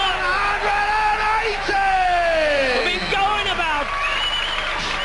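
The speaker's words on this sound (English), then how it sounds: "Crowd going mad." Darts crowd at the 2000 World Championship semi-final cheering wildly, loud sustained yelling and whooping with rising and falling voices, a dense roar of many people close by.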